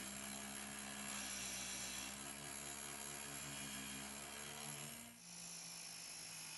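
Drill Doctor DDSB sharpener grinding a spade drill bit, a steady close motor whine with layered tonal hum that wavers as the bit is passed along, dipping briefly near the end before resuming.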